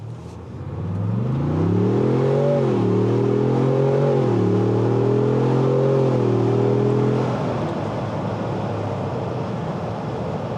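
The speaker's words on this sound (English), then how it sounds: "So I'm just gonna accelerate so you can hear what it sounds like." A 2025 Ford Bronco Stroppe Edition two-door with a V6 engine revs up hard, its loud engine note climbing in pitch through several gear shifts before easing back to a steady cruising rumble.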